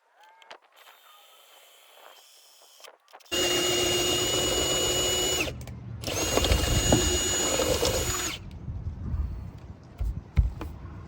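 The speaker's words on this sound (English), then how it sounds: "we're going to drill straight through the transom to the other side" A power drill whines steadily as it bores through an aluminum boat transom on a Bass Tracker 175, pausing briefly midway and resuming, then stopping; faint handling noises before and after.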